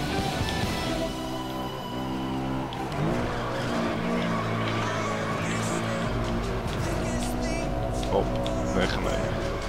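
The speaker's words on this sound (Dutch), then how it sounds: "als je drift, dan deze auto drift echt lekker mee" A car in Need for Speed Most Wanted (2012) drifts with a sustained roaring engine and whining tire squeal, loud and continuous throughout, with game music or effects layered underneath and no pauses.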